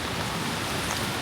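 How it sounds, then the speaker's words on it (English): Rain falls steadily on a New York street, drops pattering into puddles as a continuous close, even hiss with no voices. "this is New York while it's raining"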